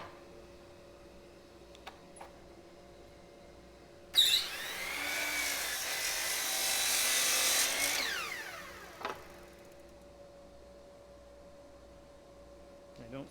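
A saw cuts through a wooden bread board in one continuous stroke lasting a few seconds, loud and close, between quieter stretches with faint workshop background.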